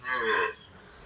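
A young bull calf on a farm lets out one short, fairly faint moo that fades quickly into quiet.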